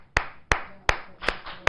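Five sharp claps from an audience at a religious discourse, evenly spaced in a steady rhythm, crisp and fairly quiet, with no talking in between.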